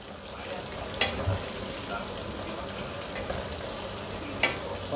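Garlic frying in a pan for a home-cooked dinner of sponge gourd with misua, a steady low sizzle running throughout with a couple of brief sharp clinks of stirring, a voice occasionally heard.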